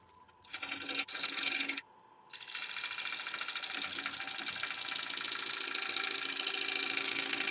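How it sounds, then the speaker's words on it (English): A 5/8 inch ball gouge cuts Irish yew on a spinning wood lathe, giving a loud continuous hiss and whir with a short gap near the start, close up and without speech. "So just shaping up along the outside of the ball now. Again, that's the 5/8 inch ball gouge."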